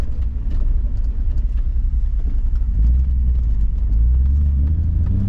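Cabin rumble of a tired 336k-mile BMW E34 M5 driving, a loud low engine drone that swells and shifts in pitch around a gear change into second, steady throughout with no talk.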